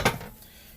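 A metal roasting pan of oven-cooked BBQ ribs clanks once, sharp and close, as it comes out of the oven, then fades into quiet kitchen background.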